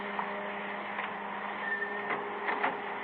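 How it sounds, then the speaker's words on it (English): A photo print dryer hums steadily in a darkroom, a continuous mechanical drone with faint periodic whirring swells, heard alone as a radio crime drama sound effect. "Kill that dryer, will you?"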